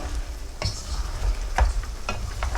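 Chicken pieces browning in a pan for a cream of mushroom sauce dish, a steady close sizzle broken by a few sharp clatters as they are stirred.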